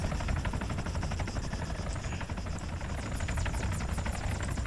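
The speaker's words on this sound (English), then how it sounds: "There's a heli after you." Helicopter flying in ARMA III: a continuous, loud, close rotor chop with a rapid pulsing beat and a whining engine layer, holding steady throughout and growing sharper toward the end.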